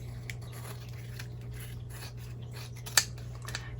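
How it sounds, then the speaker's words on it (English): Metal craft scissors dropped onto a work table during junk journaling, giving one sharp clatter near the end over a steady low hum and faint scraping. "I'm sorry I keep dropping those scissors, making all kinds of racket over there"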